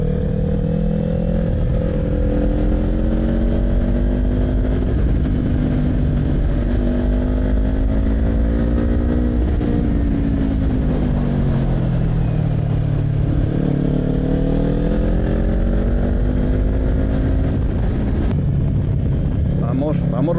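Motorcycle engine droning loudly and steadily while riding a winding road, pitch rising and falling through gear changes and throttle on curves, with a rider talking over it.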